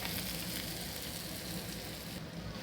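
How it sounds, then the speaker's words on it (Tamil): Onions with curry leaves fry in a pan for a nulcol and beans poriyal, giving a soft continuous sizzle and crackle that stays fairly quiet throughout. "வெங்காயத்தை நல்லா வதக்கி விடணும்."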